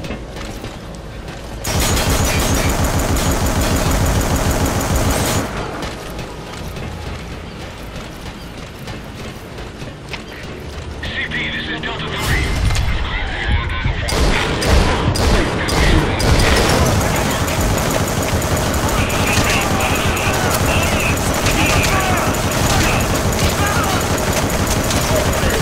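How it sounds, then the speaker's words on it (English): Sawed-off shotgun firing in Metal Gear Solid V: The Phantom Pain, glitched to hold a 100-round magazine, letting off a long stream of loud, rapid blasts with mechanical clatter, heavy and continuous for most of the stretch. "I basically glitched this to have 100 round magazine for a sawed-off shotgun."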